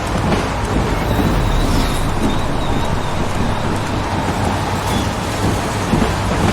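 Heavy rain falling in the Heavy Rain video game, a steady, dense hiss of downpour with rumbling thunder beneath, continuous and fairly loud throughout.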